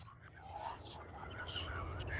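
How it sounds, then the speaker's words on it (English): Soft breathy whispering voices in the video game Penumbra: Overture murmur over a low steady hum, several hushed words overlapping at close range. "Those are the voices in my head."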